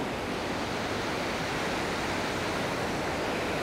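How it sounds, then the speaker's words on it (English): A waterfall with a large volume of water pouring over the falls, producing a loud, unbroken roar of rushing water close by, with no voices. "There's a rather a large amount of water coming over these falls."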